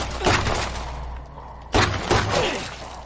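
Pistol fire in a zombie shooter comes in two quick clusters of loud, sharp shots with short ringing tails, separated by a brief quieter gap.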